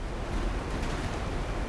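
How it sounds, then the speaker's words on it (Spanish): A waterfall rushes in the Elden Ring game world, a steady broadband roar of falling water with no break, fairly quiet and unaccompanied by talk. "Una cascada, ¿dónde suena esa cascadota?"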